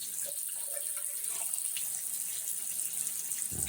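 Hot water runs steadily from a household tap just fitted with a new washer, a continuous close hiss and splash that stays even throughout.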